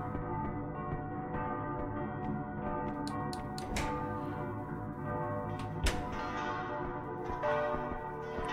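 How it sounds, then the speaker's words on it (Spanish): Church bells ring in the horror game Simulacrum, a heavy tolling with long, humming overtones that repeats steadily at a moderate distance, with no voices over it. "las campanadas podrían parar"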